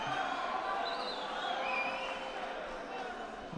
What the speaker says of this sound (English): Anyway, the crowd loved it.